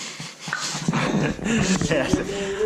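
A dog whimpers and yips in a shop, with high, thin whines coming in short bursts close by while people talk over it.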